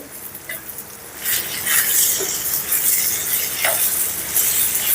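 Tomato added to hot oil with ridge gourd and urad dal for a Telugu-style pickle, stirred in a pan. Quiet at first, then a steady loud sizzle with stirring scrapes from about one second on.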